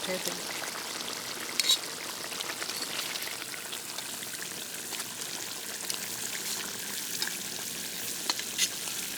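Snakehead fish curry cooks in a pan over a village stove at night, giving a steady soft sizzle and bubbling hiss with a few sharper pops, fairly quiet throughout.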